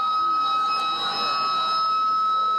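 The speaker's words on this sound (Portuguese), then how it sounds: "os manifestantes escutaram a sirene que deveria ter sido acionada na hora do" A dam-failure warning siren sounds at a protest, holding a steady, sustained electronic tone throughout, loud and continuous, with faint crowd noise beneath.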